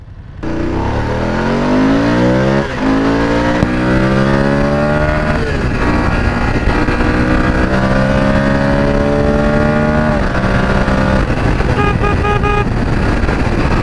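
Two motorcycles, a BMW F850GSA and a Kawasaki Z900, ride through a city, engines loud and close as they climb repeatedly through the gears in rising sweeps, with a horn toot near the end.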